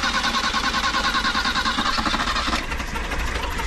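Toyota Liteace engine with a dirty filter runs steadily at idle after starting, a continuous close, loud mid-pitched rumble with a slight change in tone near the end.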